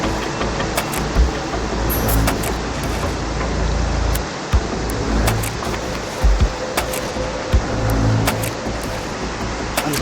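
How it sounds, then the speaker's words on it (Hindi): A mountain stream rushes loudly along a Kinnaur Kailash trekking trail, a dense, steady roar of water that fills the whole clip with no one speaking. "आपने सुना होगा शोर, कितना तेज़ है ये पानी का फोर्स।"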